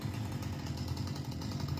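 A chainsaw engine in a farm simulator video game buzzes steadily at close range, a rough continuous drone with a pulsing low rattle, no voices.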